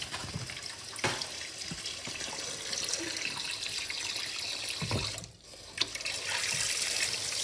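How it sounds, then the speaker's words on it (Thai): Tap water runs steadily into a pot with its drain hole plugged, filling it for steaming frozen crabs, a continuous close splashing rush with a brief dip in flow near the end, no one talking. "แล้วเราก็ใส่น้ำเข้าไปค่ะ"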